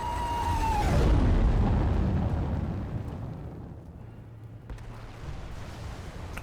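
Explosion in the War Thunder combat game, a heavy boom that swells and slowly rumbles away over several seconds, followed by fainter distant thuds and a low hum.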